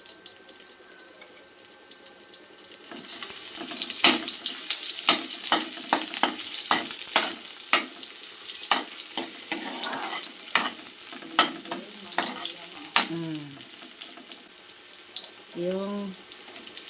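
Garlic and onions fry in a pan for galunggong, a steady close sizzle broken by repeated sharp scrapes and taps of a spatula, with a brief burst of running water near the end.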